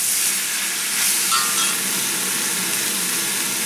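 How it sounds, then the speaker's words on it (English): Vegetables stir-frying in a wok over very high heat give a loud, steady sizzle and hiss, close and continuous, with faint scraping as they are tossed. "Now I am on super high heat. I'm gonna add these vegetables and stir fry them."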